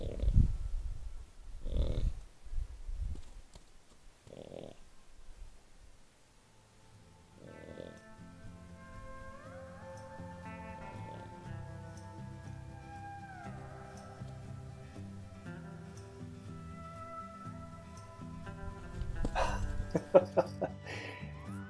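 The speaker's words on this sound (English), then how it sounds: "You can hear him snorting as he gets closer to the block." Goliath, a wild horse in Alberta, gives several loud close snorts and breathy blows in short bursts, with quieter stretches between and a faint tonal background in the middle.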